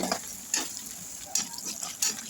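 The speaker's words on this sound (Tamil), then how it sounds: "இந்த மாதிரி நல்லா வதக்கி விட்டுக்கோங்க அந்த வெங்காயம் வந்து நல்லா ப்ரௌன் கலரில் மாறும்" Onions sauté in a pan for vathal kulambu, a faint steady sizzle broken by three or four brief stirring scrapes at roughly even intervals, with no voices.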